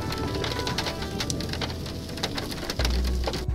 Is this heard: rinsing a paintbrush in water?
no